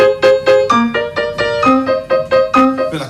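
Keyboard figure of one low note followed by three higher notes, repeated steadily in a clear, even rhythm across several cycles, played alone and close with no talking.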